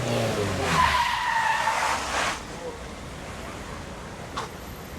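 Car tires squeal and skid on a street in Albania, a sustained screech lasting about two seconds over road noise, then fading to a steady outdoor hum.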